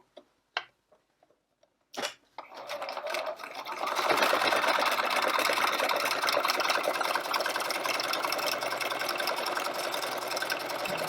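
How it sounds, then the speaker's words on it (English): A sewing machine doing zigzag stitching starts after a few clicks and taps, then runs in a close, continuous mechanical whir that rises and holds steady, with no talking. "Set your machine to do a bit of zigzag."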